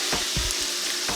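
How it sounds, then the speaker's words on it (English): Thin strips of corn tortilla fry in hot oil with a dense, close crackling sizzle. Soft bumps of stirring and movement in the pan come through over a brief stretch, with no one speaking. "cut up corn tortillas into thin little strips, and fry them until they turn a golden color."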